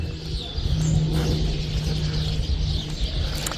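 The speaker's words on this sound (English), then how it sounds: "You hear the beautiful birds." Birds chirp and call faintly around a villa pool in Murcia, Spain, small tweets scattered over a steady outdoor hum with a low cooing-like tone running underneath.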